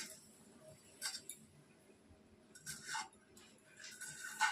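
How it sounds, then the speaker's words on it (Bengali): A pot lid lifted off a simmering fish curry makes a few faint, sharp metallic clinks and rattles in quiet, spaced bursts. "ঢাকনাটা সরাই দিলাম।"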